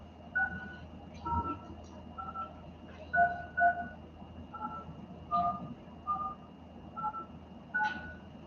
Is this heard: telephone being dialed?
yes